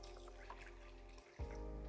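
Wort pours into a brewing vessel in a home brewery, a soft steady trickle and splash of liquid close by, with a brief thump and a heavier gush near the end.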